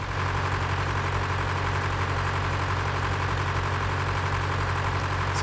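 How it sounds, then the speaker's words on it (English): A tractor engine idles steadily in Farming Simulator 2013, a continuous low mechanical drone with a constant hum that holds at an even level throughout, with no talking. "Just checking out the new tractor."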